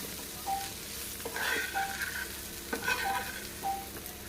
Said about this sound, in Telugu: మళ్ళీ ఒకసారి బోటి అనేది కలుపుకుందాం